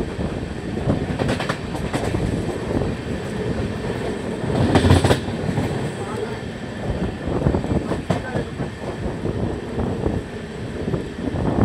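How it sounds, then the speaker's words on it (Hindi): A Tamil Nadu Express passenger train runs on rails through a curve, giving a steady loud rumble with rhythmic clatter and wind buffeting, heard from inside the moving carriage. "फिर से कर्व ले चुकी है हमारी ट्रेन।"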